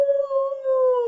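A single sustained, slightly falling howl from a voice imitating a wolf, clear and close, holding one steady tone for about a second.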